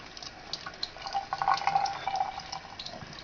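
Tap water runs into a sink over a bar of microwaved soap, a soft steady trickle with light splashing, fairly quiet and with no talk.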